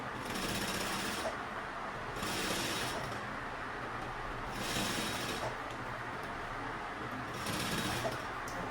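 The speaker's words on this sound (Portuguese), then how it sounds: "Vamos levantar o nosso fundo, o nosso fole, e continuamos a nossa costura." Sewing machine stitching a bag, running in a steady fast hum with several louder stitching spells at regular intervals, close and continuous throughout.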